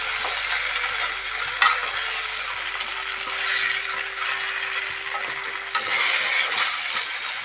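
Sago pakoras frying in hot oil, a steady close sizzle and bubbling with a couple of sharp clinks from a utensil as the pieces are turned.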